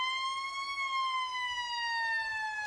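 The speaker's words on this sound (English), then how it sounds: "And when you hear that siren," A fire truck siren at a St. Patrick's Day parade in Savannah, a sustained wailing tone slowly falling in pitch, clear and fairly close, with no talking.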